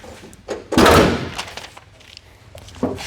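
A hot rod car's hood is opened, with one loud metallic clunk and thump standing out amid softer knocks and handling noises close by.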